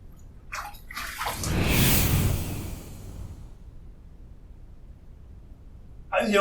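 Running water rinses a face after a wet shave with a Yaqi Bohemia razor, a broad splashing rush that swells and fades in the middle, with brief handling noises before and after.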